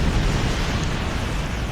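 A torpedo explodes in the space game Star Trek Online, a dense, roaring blast that stays loud and rumbling for under two seconds with no voices over it.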